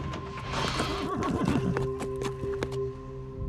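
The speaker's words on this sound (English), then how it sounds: "the horses are unaware of the time pressure and moving to their own schedule" A horse whinnies at Melbourne Airport, a loud tonal neigh with wavering pitch up close, followed by scattered hoof clops and shuffling against a quiet, steady hangar hum.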